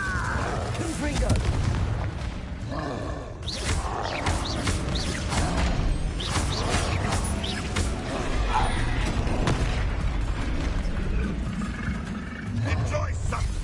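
Repeated fiery blasts and booming impacts from Confringo spells in the Hogwarts Legacy video game, dense and loud throughout amid roaring creatures and combat noise, with voices speaking over the fighting.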